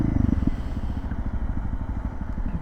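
Dual sport motorcycle fitted with a DG RST exhaust, heard up close with a steady low engine thrum and rapid pulsing exhaust note, louder at first then settling into an even idle-like chug, with no talk.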